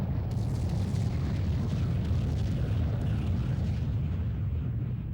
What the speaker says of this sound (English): And then you gotta have your like epic explosions.